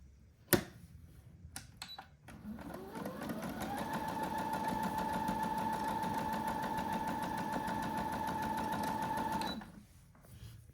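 Domestic sewing machine stitching a reversible patka, running at a steady fast whirring rhythm for about seven seconds after a sharp click, then stopping; close and clear, with no talking.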